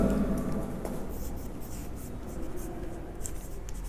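Pen scratches across paper while writing out an indirect speech sentence, soft continuous scribbling strokes with small taps, close and fairly quiet throughout.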